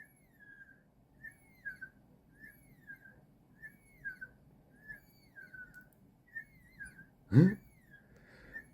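A repeated rising-and-falling electronic whistle from an overdriven gate in a roughly 15 MHz xenon plasma toroid driver, about seven chirps in a steady rhythm over a low hum, broken by one sharp loud burst near the end.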